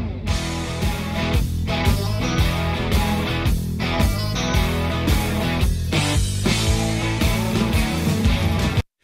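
A full music mix run through a Roland Dimension D rack chorus unit plays continuously at steady loudness with a bright, jangly, widened sheen, dense rhythmic hits throughout, ending abruptly.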